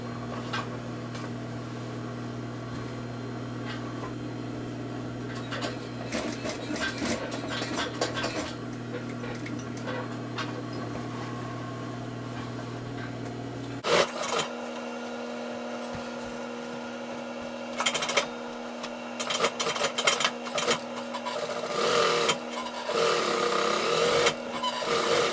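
A sewing machine runs colored thread through a shop coat. Its steady motor hum carries on under clatter and handling noises, and louder bursts of activity come near the end.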